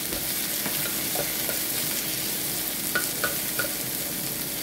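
Onions with added ingredients sauté in a pan, giving a steady, close, bright sizzle with a few soft stirring scrapes and taps, and no voices.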